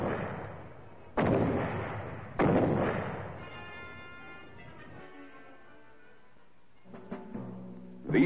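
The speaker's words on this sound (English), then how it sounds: "Care should be taken in detonating these grenades." Two booby-trapped grenades go off in turn, set off from a safe distance with a grappling hook and rope. Each is a loud, sharp blast that decays into a rumbling tail, followed by quieter tonal sounds and scattered thuds.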